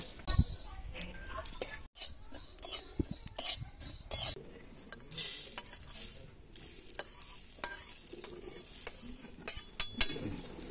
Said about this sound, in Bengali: ধনের সাথে 5 ফোড়নটা দিয়ে দেবো, দিয়ে একসাথে ভেজে নেব